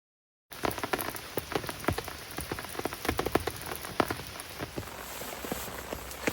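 Steady rain patters on a surface at a lakeside fishing spot, a dense continuous hiss broken by brighter individual drop hits, fairly close and moderate in level with no voices.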